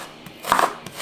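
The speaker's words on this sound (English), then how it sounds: "so I chop them up." A knife chopping onions on a cutting board in a home kitchen, a few quick close cuts in about a second with no voices.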